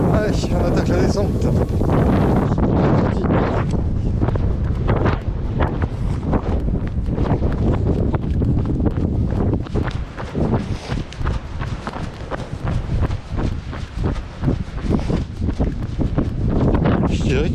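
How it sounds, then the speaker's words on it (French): Strong wind gusts roar and buffet the microphone during an 80 km forest ultra trail run over slag heaps, loud and continuous with footsteps and rustling beneath. "Les rafales de vent."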